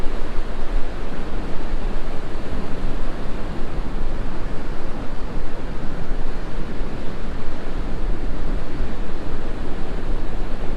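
Ocean waves wash onto a beach in a steady, dense roar of surf, with a broad, unbroken rush of water and wind and no voices.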